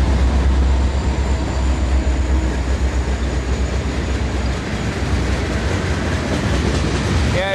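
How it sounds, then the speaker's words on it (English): An eastbound freight train with auto rack cars rumbles steadily past at close range, a continuous heavy roar with faint rhythmic clatter of wheels throughout. "Here's an eastbound train."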